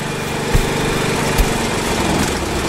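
A big, fast tractor in the video game Death Tractor roars with a loud, buzzing, mower-like engine drone, continuous and close, broken by a couple of sharp thumps.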